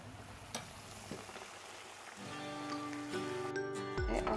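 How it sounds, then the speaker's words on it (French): Indonesian vegetable fritters (bakwan) frying in hot oil make a soft, continuous sizzle with occasional small pops, heard over a quiet tonal background that grows slightly louder toward the end. "on continue de faire frire les pâtes de beignets aux légumes jusqu'à c'est fini"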